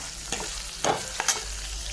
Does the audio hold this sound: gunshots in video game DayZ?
no